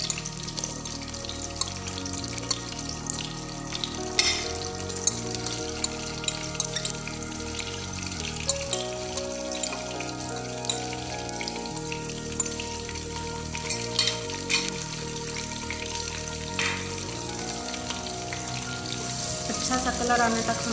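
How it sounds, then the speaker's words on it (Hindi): Onions frying in a pan for gobhi gosht, a sustained sizzle with frequent stirring scrapes, partly under loud background music. "अब हम इसमें प्याज डालेंगे और इसको गोल्डन ब्राउन होने देंगे।"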